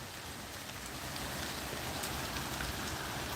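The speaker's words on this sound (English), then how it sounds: "it's raining, and it's pouring, well, not pouring, but it's coming down pretty good right now" Steady rain comes down fairly hard outside a house, a dense even hiss of drops on surfaces, continuous and close, with no voices.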